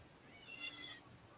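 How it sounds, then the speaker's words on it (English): A cat meows and yowls while agitated, a faint, brief cry heard alone in a quiet room. "Why is the cat tripping?"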